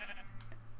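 A Minecraft sheep gives one short, faint bleat, heard alone at a low level with a steady low hum beneath it.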